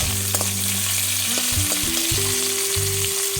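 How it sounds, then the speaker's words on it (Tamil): Curry leaves sauté with onions in a hot pan, a steady dense sizzle and crackle with no voices, and tonal hums running over it. "கருவேப்பிலையை போட்டுட்டு நம்ம நல்லா வதக்கி விட்டுடுவோம்"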